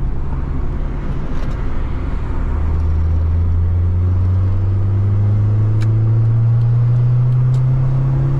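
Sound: Honda Civic 1600cc engine revving to 6000 rpm

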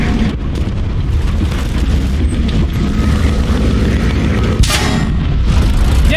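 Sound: tank cannon firing in War Thunder video game

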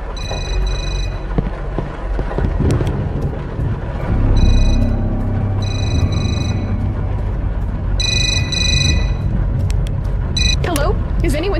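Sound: telephone ringing in horror video game Suffer the Night

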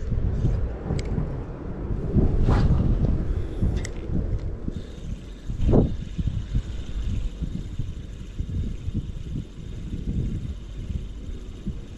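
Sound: strong gust of wind from the south on Siret river

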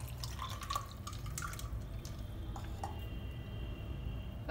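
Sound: pouring sweet lime juice into a glass

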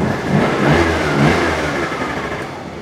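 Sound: Barton Falcon two-stroke scooter engine starting and revving

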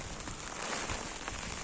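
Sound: heavy rain falling

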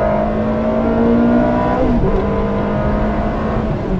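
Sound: Ferrari accelerating

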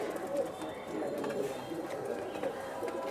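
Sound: pigeons cooing

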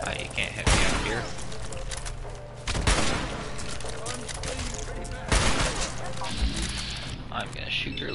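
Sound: gunfire from the video game Fallout 4

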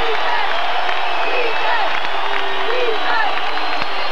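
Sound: basketball arena crowd cheering at a Lobos game

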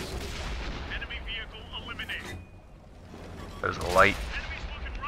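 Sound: tank cannon fire in World of Tanks video game

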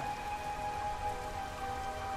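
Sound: rain in the video game Dredge

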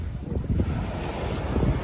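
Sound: sea waves washing ashore

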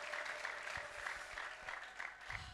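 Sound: congregation applauding in church

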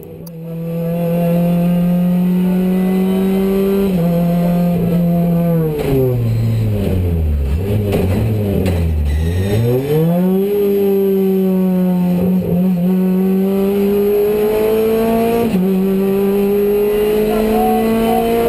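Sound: race car accelerating

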